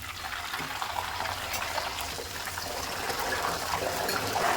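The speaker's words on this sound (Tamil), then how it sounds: "லாஸ்ட்டாக கொஞ்சோண்டு உப்பு தண்ணி சேர்த்துக்கிறேன்" Salt water is splashed into a pan of potato chips frying in oil, raising a hissing, bubbling sizzle that grows steadily louder over a few seconds.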